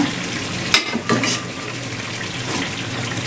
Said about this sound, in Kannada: ಈಗ ಫೈನಲಿ ಬೇಯಿಸ್ಕೊಂಡಿರುವಂಥ ಕಡಲೆಕಾಳನ್ನ ಹಾಕೊಳ್ತಾ ಇದ್ದಾರೆ